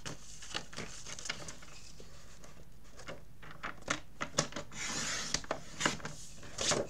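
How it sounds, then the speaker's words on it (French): Scissors cutting decorative scrapbook paper closely around arabesque patterns, a close run of soft rasping snips and paper rustles in an uneven rhythm, quiet and alone. "Je viens couper les arabesques au ras de l'arabesque."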